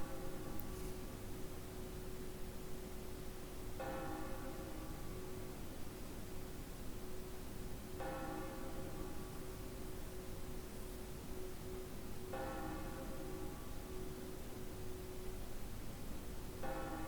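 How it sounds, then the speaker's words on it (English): A bell tolls in the video game Another Code: Recollection, with distinct strikes recurring about every four seconds, each ringing out faintly over a steady hiss with no voices. "Looks like everyone's hearing the bell ring."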